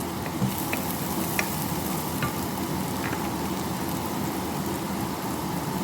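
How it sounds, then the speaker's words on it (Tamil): Onions sautéing in a pan for a Jaffna-style baby chicken curry give a steady, close sizzle with occasional faint scraping clicks, and no one speaks. "இதில் போட்டு வதக்கி கொண்டிருக்கிறேன் பாருங்க"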